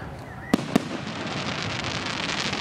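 Canada Day fireworks in Woodstock, Ontario: two sharp, loud bursts close together early on, followed by a continuous crackling, rumbling wash of distant explosions, with faint voices in the background.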